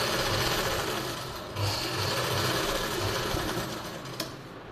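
An electric sewing machine stitches the shoulder seam of a silk suit, a loud, close, continuous whirring run with a brief dip in speed partway through, then a small click near the end.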